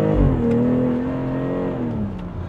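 A BMW X3 M40i accelerating hard, the engine note climbing steadily in pitch then easing as it shifts, heard loud from inside the cabin with no talking.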